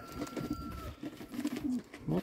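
Yellow Czech show pigeons in a new loft coo in low, rolling, repeated phrases close by, with a faint steady tone underneath.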